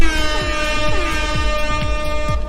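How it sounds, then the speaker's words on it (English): A handheld three-fingered air horn blasts loud and close, a continuous brassy chord with several sliding tones that wobble in pitch across the whole stretch. "I have an actual, 3-fingered air horn"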